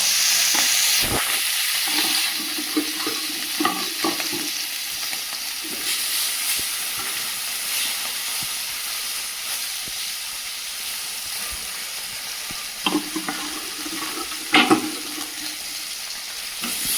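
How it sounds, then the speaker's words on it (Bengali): Bata fish coated in salt and turmeric frying in a frying pan, a constant hissing sizzle close by with a few sharp spatters and clinks near the start and near the end. "ফ্রাই প্যানে ভেজে নিচ্ছি মাছগুলো।"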